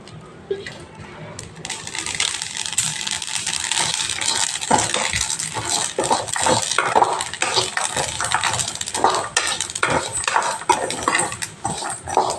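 Sesame seeds roasting in a pan with cashews are stirred with a utensil, giving a steady scraping and rustling with frequent small metallic clinks, close and continuous over a low background.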